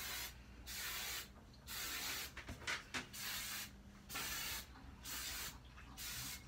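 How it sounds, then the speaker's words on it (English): Hairspray hisses from an aerosol can onto small hair knots in short repeated bursts, about six spritzes with brief pauses between, close and fairly quiet, no talking. "I'm just gonna add some hairspray."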